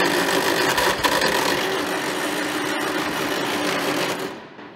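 An old Farmall tractor that has sat unused for many years cranks with a loud, steady, churning engine drone and a brief sharp pop, then the noise fades away near the end.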